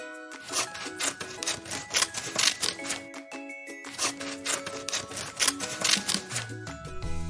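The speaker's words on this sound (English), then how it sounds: "I can hear a pair of scissors cutting paper." Scissors snip through paper in a busy run of crisp, close cuts and rustles, with brief gaps between the bursts of snipping.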